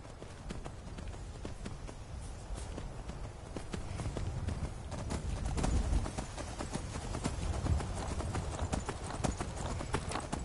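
Steady clip-clop of horse hooves in Skyrim at a brisk, rhythmic pace, fairly close, with a low ambient rumble underneath and no talking.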